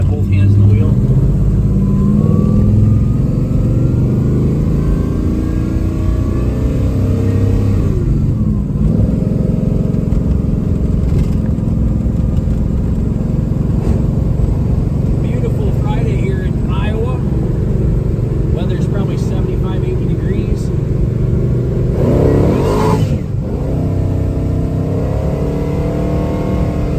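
A 1970 Chevrolet Chevelle Super Sport engine revs and pulls hard under acceleration, a loud sustained roar throughout with a voice talking over it.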